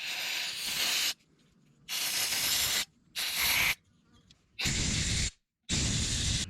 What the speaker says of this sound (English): This is brake cleaner.